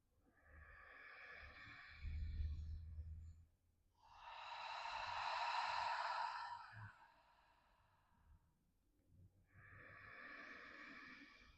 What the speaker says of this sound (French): On va reprendre 3 respirations profondes en expirant longuement par la bouche.